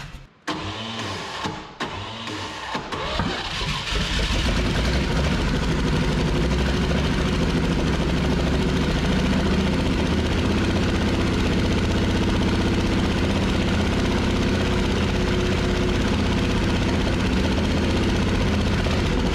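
A 1959 Chevrolet big block dump truck, abandoned for 17 years and running on a poorly working carburetor, cranks with a few stuttering catches, then settles into a loud, steady, rumbling idle close by, with no talking.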